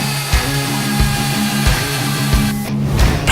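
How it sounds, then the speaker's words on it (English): A Euroboor ECO.80 magnetic drilling machine with a 1900-watt motor runs loudly and close, a steady motor whine with a rhythmic low thump repeating about every two thirds of a second. "ECO.80 magnetic drilling machine. The perfect solution for heavy drilling tasks."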